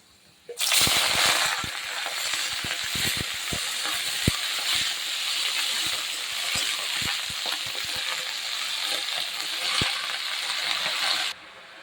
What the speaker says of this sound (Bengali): ভাজা হয়ে গেছে, এবার আমি শাকগুলো দিয়ে দেবো।